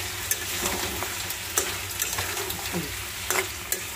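Koi fish curry with vegetables sautés in a pan, giving a continuous oily sizzle broken by sharp scraping clicks of a stirring spoon, close and steady without talk.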